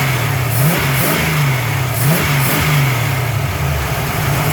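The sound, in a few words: car engine idling with carburetor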